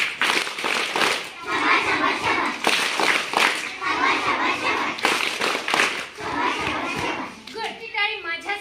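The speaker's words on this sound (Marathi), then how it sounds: "आधी टाळी मी देणार शाबासकीची दुसऱ्याला, मी सुरू म्हणल्यानंतर तुम्ही देणार" A group of schoolchildren claps together in a shabaski well-done clap, the sharp hand strikes loud and close and mixed with lively overlapping voices chanting along.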